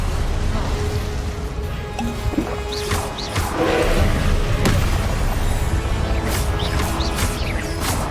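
Spell combat in Hogwarts Legacy sets off a string of booming Confringo-style blasts and crackling magical impacts. The bursts sound repeatedly over a noisy battle, with a voice heard in between.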